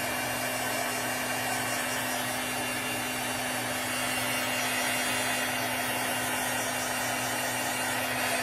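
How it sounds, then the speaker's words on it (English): A hair dryer runs steadily at close range for the whole stretch, a loud, even motorized whoosh with a constant low hum, blowing to dry chalk paste on a Fourth of July craft project. "I'm just going to use my dryer here just for a minute. It's going to get a little loud."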